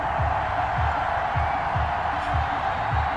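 Stadium crowd in Madden 21 before a Philadelphia Eagles versus Tennessee Titans game, a steady broad roar of cheering with repeated low rhythmic thumps underneath, continuous and fairly loud throughout.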